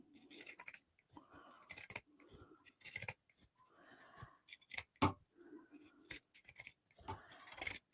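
Pinking shears snipping through fabric close to a seam of a crossbody bag, a quiet, close series of crisp irregular cuts with short pauses, no talking.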